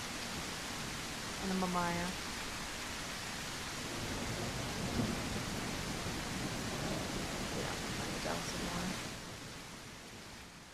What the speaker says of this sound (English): they said they turned the rain down. It's still quite loud.